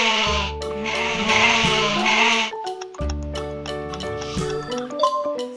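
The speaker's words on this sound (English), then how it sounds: "It's a goat!" A goat bleats loudly and close by, a few long, wavering, nasal calls separated by short pauses, with no voices over them.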